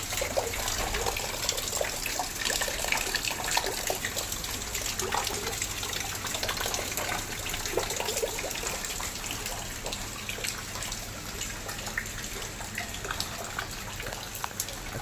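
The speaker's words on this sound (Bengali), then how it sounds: "কীরকমভাবে বৃষ্টি নেমেছে ফাইনালি" Heavy afternoon rain pours down steadily, a dense continuous wash of water with splashing and trickling that stays loud and unbroken.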